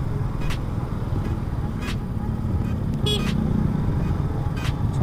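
Heavy night traffic jam on a city street, heard from a motorbike, with a dense steady roar of car engines and several short horn toots scattered through.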